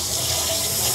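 Water pours steadily from a sensor-activated improvised handwashing tap, loud and close in a continuous gush.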